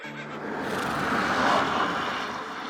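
A horse whinny used as a sound effect, a loud, rough call that swells and fades over a couple of seconds, with no talking.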